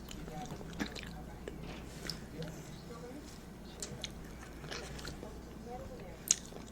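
Someone eats corn casserole at a mukbang table, with soft, wet chewing and squishy bites heard close up over a low background hum and one sharper click near the end.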